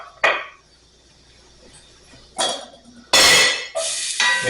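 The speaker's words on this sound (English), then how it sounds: "And I'm just dropping all those carrots in there." Carrots clatter into a pan with butter in a few sharp bursts, followed by loud, bright sizzling.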